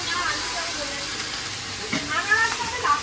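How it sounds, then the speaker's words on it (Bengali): Rain falls on an open rooftop set up for a meal, giving a dense, steady hiss with a few louder spatters near the end, and a voice speaks briefly under the downpour. "এখন আপনি জলদি একটু ওপরটা ঢেকে দিন, বৃষ্টি যেভাবে হচ্ছে ভিজে যাবে।"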